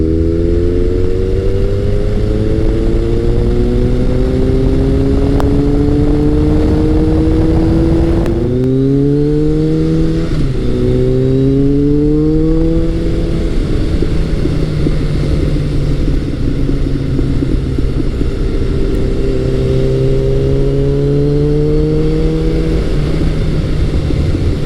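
A Kawasaki ZRX1100 retro motorcycle engine pulls hard under throttle, its rising harmonic note climbing in pitch, dipping briefly as it shifts, then climbing again, loud and steady throughout with no talk.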